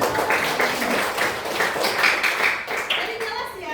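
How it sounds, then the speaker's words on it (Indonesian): A classroom of students claps together in a dense, steady burst of applause that carries on for several seconds, with voices mixed in underneath. "Oke, berikan aplaus untuk"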